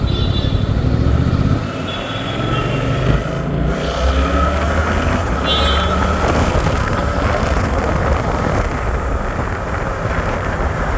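A Suzuki GSX-8R motorcycle accelerates in its basic B riding mode after a U-turn, its engine a steady, loud drone heavily mixed with wind rush across the microphone, with no talk.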